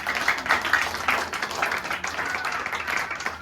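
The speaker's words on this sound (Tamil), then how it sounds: "எங்க ஜோர கைத்தட்டு நன்றி சொல்லுங்க" Audience at a Christmas church skit program clapping together, a steady close patter of many hands at a fairly even rhythm with no speech over it.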